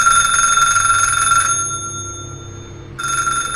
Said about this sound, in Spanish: Acababa de acomodarme con una taza de café recién hecho cuando sonó el teléfono.